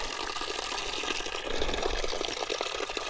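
Spring water on Pohorje flowing steadily from a source, a continuous bright splashing and gurgling nearby with no voices.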